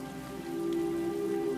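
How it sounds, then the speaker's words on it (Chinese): Heavy rain pours steadily and evenly around a crested ibis nest in the wild, a dense continuous patter close by with no voices. "大雨连着下了好几天"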